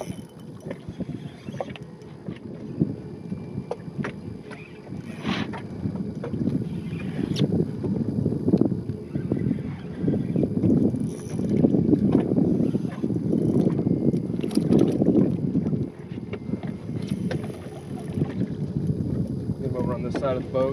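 A fishing boat runs across Texas coastal water, its engine a steady low rumble with hull and water rush and some wind buffeting on the microphone, growing a little louder midway and continuing throughout.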